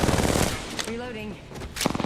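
Rapid automatic gunfire in an online battle royale shooter game, a short burst of shots layered with game sound effects, while a player talks over it.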